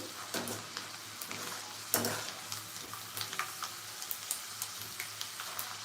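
Okra (bhindi) frying in a pan on a home stove, a steady soft sizzle broken by repeated light scraping and stirring taps, fairly quiet and close, with no voices.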